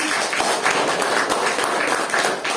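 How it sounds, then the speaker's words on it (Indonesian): A class of students claps together in a classroom, a loud, continuous burst of many hands clapping up close with no pause. "Kita apresiasi kita semua, tepuk tangan"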